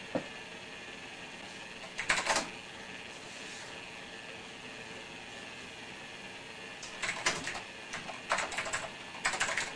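Bursts of clacky typing on an old mechanical keyboard at a DOS command prompt, a short flurry early on and several quick runs near the end, over a steady machine hum.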